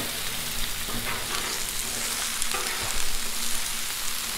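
Chicken fajita mix with sauce sizzles steadily on a hot Blackstone griddle, a loud, close, continuous frying hiss with faint scraping from stirring and no voices.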